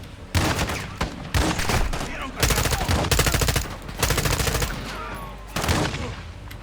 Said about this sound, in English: Get to cover and return fire!